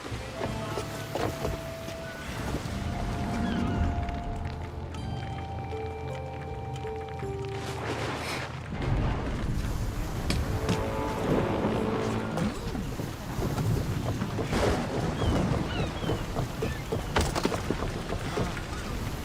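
A sailing ship at sea in Assassin's Creed Odyssey, with steady loud wind and water rush, creaking hull and rigging, and scattered splashes and thuds throughout.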